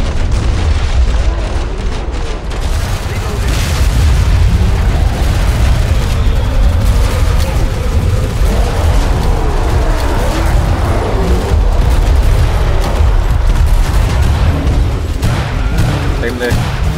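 Booming explosions and heavy gunfire from the video game Killing Floor 2, loud and dense for the whole stretch with a constant low rumble and a voice talking underneath.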